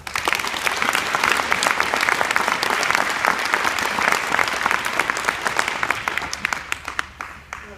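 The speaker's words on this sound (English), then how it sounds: "So, big round of applause for Hannah." A crowd welcomes volleyball player Hannah with loud, sustained applause, dense clapping at full strength for several seconds before tapering slightly near the end.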